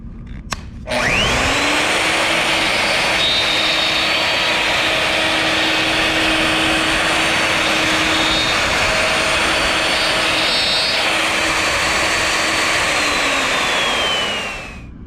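A plunge router runs loud and steady for about fourteen seconds while cutting into a wooden board, spinning up sharply at the start and winding down at the end, with a constant high whine and no talking.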